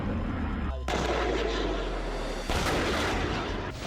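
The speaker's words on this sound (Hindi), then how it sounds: "खेरसोन में जबरदस्त आर्टिलरी प्रहार किया गया" Heavy artillery fire in Kherson, Ukraine, with loud booming blasts and rumbling gunfire that swell sharply near one second and again around two and a half seconds over a continuous low roar.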